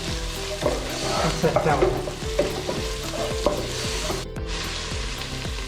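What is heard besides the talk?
onions frying and being stirred in a pan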